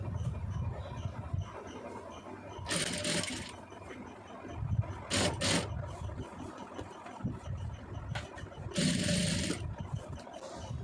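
Sewing machine stitching fabric piping, a close mechanical whirring and rattling in uneven bursts with pauses, plus occasional rustling handling of cloth.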